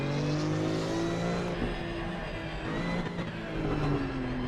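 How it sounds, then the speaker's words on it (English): A racing-game car with an engine resembling a Porsche Cayman's drones loudly and continuously, its pitch rising and falling through revs and gear changes, with no talking. "Yes, this has the Cayman engine."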